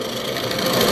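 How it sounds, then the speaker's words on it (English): A wood lathe spinning a bowl blank while a carbide tool takes small bites, giving a loud, steady scraping and hissing cut with no pauses. "The secret to using Carbide to turn a bowl is taking small bites."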